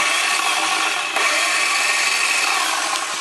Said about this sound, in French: Et là la scie circulaire.